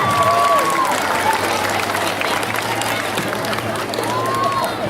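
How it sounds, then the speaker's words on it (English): An audience at a school awards event gives sustained applause for 4th grade students, with dense clapping and some crowd noise filling the whole stretch at steady loudness. "Let's give our 4th grade students another big round of applause."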